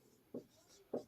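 Two short, faint scratches of a pen or chalk marking characters by hand, spaced about half a second apart, in a quiet room.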